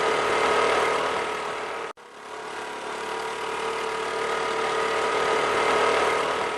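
A cartoon scooter engine drones loudly and steadily in a race, a constant buzzing roar that cuts out briefly and then resumes and builds again, with no talk over it.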